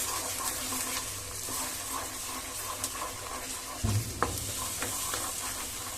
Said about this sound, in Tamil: ஸோ இதை நம்ம நல்லா மிக்ஸ் பண்ணிக்கலாம்.